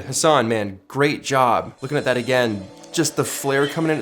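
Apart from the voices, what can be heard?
None of the usual background noises is heard.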